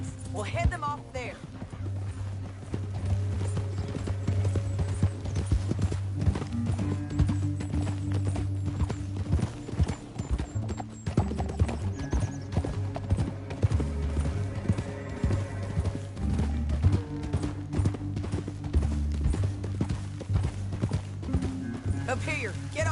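Horses galloping in Red Dead Redemption 2, a continuous rhythmic clatter of hooves under game music, with characters' voices talking over it.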